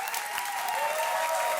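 An audience from Taquara, Nova Iguaçu, São Gonçalo and Campo Grande applauds in a television studio, a dense, loud burst of clapping that stays steady throughout.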